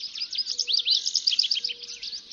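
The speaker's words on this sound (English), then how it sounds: "The first birds to sing are usually the ones perched highest in the tree canopy." Dawn birdsong from high in a forest tree canopy: a dense chorus of rapid, high chirps and trills, steady and moderately close, with no voices.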